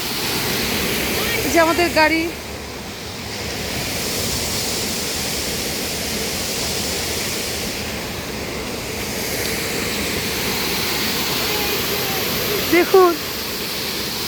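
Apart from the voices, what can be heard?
waterfall falling from a height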